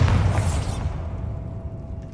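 A Bombarda blast spell goes off in Hogwarts Legacy, opening with a loud booming burst and bright crackle that rolls into a long, fading rumble.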